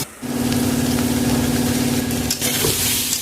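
Ginger, cumin and green chilli paste fries and sizzles steadily in a pan with a continuous hiss and faint stirring scrapes, close and fairly loud, no talking.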